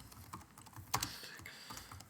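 Soft keys clatter on a computer keyboard in a quick, faint run of taps, close and alone, with one slightly louder keystroke in the middle.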